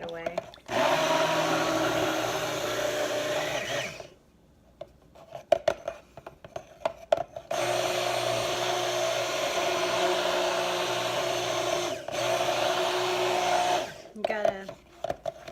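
A blender whirs steadily through a batch of hot process soap until it thickens, running loud in two long stretches separated by a quiet pause with clatter and brief talk.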